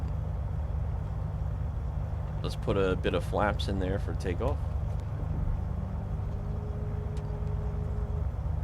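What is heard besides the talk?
Beechcraft V35 Bonanza engine in Microsoft Flight Simulator video game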